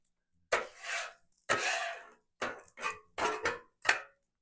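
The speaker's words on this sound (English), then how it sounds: "we're going to scrape and clean a little" A metal spatula scrapes and cleans a flat cooking surface while tortillas cook, six distinct scraping strokes of varying length, close and fairly loud, with no talking.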